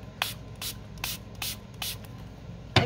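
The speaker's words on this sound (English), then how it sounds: "We'll spray this down." A hand spray bottle mists water onto watercolor paper, six short hissing squirts in a fairly even rhythm, close and clear, followed by a final clatter.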